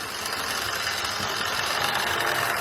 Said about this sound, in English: the noise you can hear it basically making is all the gears whizzing round in the tender